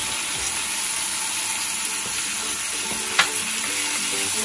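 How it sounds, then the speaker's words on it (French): Salmon in ginger sauce with a splash of water sizzles steadily in a frying pan while being stirred, a close, continuous frying hiss with small scraping and clinking sounds and one brief knock. "On va bien mélanger."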